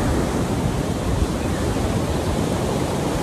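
Ocean surf breaks on a cold beach with surfers out, heard as a continuous, loud wash of waves mixed with wind buffeting the microphone, with no voices.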